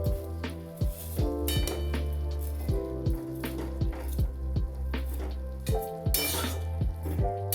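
Vegetarian banana flower mixture with sugar and salt stirred in a pan: light spoon scrapes and clinks against the pot, close, under steady background music.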